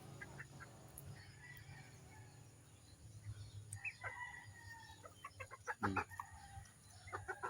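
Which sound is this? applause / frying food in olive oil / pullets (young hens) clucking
pullets (young hens) clucking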